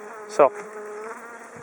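A honey bee buzzes close to the camera during a hive inspection, a short loud rising drone that fades into a fainter steady hum from the hive, with one quick spoken word.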